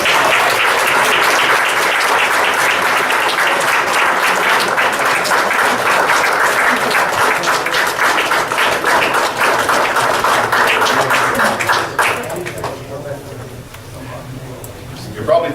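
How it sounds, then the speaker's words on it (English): People at a city council meeting give a group a loud round of applause. The dense clapping holds steady for about twelve seconds, then tapers off, leaving faint room noise. "I think we owe these guys a round of applause"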